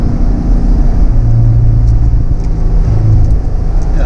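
A car's engine pulls hard at wide-open throttle through a wide corner, a loud, steady, close drone without any talk.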